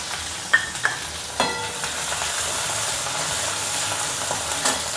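Green ginger-chili paste hits hot oil in a pan and sizzles with a steady hiss, while a spoon scrapes and clinks against the pan a few times as it is stirred.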